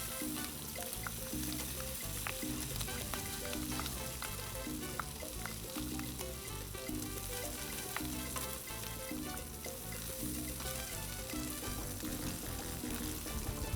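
Bacon fries on a Blackstone 22-inch griddle with a loud, steady, crackling sizzle and scattered pops throughout, close up and with no talking.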